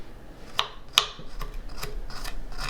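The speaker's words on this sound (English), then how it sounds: "cut up our garlic" A kitchen knife chops garlic on a board into small pieces, giving a few sharp, close taps spread irregularly over a low background hum.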